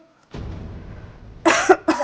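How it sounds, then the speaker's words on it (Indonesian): A woman's cough, close and loud: after a low rumble of room noise come several short, sharp coughs in a quick uneven burst, with no one speaking. "Cuma batuk aja."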